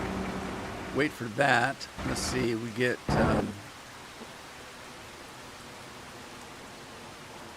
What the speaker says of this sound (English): Oh, we got thunder along with the rain.